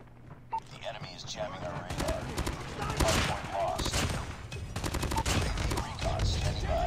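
An AK117 rifle in Call of Duty Mobile chatters in rapid automatic bursts, loud and close, with a few pauses between strings of fire and a voice talking over it.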